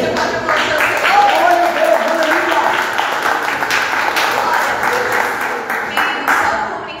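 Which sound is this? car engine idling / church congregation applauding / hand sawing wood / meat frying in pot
church congregation applauding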